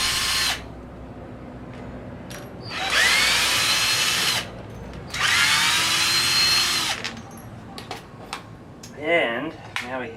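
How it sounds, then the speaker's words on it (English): A power drill backs screws out of the wheel rim on a canoe dolly, whirring in three loud, close bursts of about one to two seconds each, separated by quieter clicks and handling noise. "There are a bunch of screws along the wheel rim that hold them in place and should be easy to remove."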